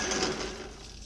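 A metal lathe or mill cuts metal with a left-hand carbide cutter, giving a brief, steady, gritty machining whir close by.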